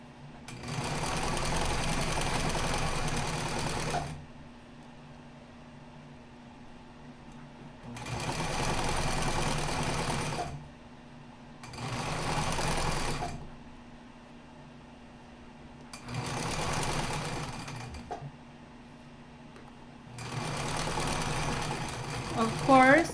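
A sewing machine stitches a skirt fabric seam in five loud, steady runs of rapid whirring, each lasting a few seconds, separated by quiet pauses.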